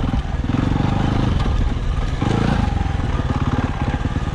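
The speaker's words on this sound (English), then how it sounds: "we are riding my dad's KTM 300" A KTM 300 four-stroke dirt bike ridden on an enduro trail, its engine loud and close with a steady pulsing rumble that surges and eases as the throttle changes throughout.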